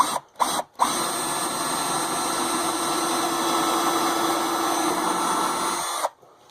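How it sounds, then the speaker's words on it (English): A Black & Decker power drill gives two quick bursts, then whirs continuously at a steady pitch for about five seconds before stopping. It is close and loud. "Here's my Black & Decker drill."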